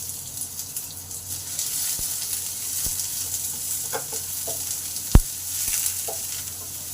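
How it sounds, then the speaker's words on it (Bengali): Onion and a green chilli fry in hot oil in a pan, a steady hiss of sizzling running throughout with a few soft clicks and one sharp utensil tap near the end. "পেঁয়াজটা ভালো করে ভেজে নেব"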